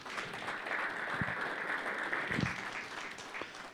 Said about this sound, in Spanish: Vamos a recibir, por favor, con fuertes aplausos al grupo Canto de Esperanza